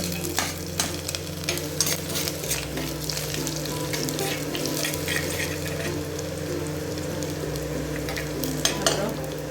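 Ginger and garlic sauté in hot oil for a fish curry, a steady close sizzle with occasional stirring clicks and scrapes from a utensil in the pan throughout.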